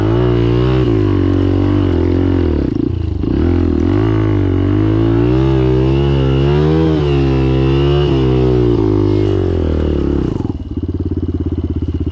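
A Benelli TNT 135 motorcycle engine labours steadily up a steep mountain trail, loud and close throughout, its pitch rising and dipping with brief throttle changes and a short easing near the end.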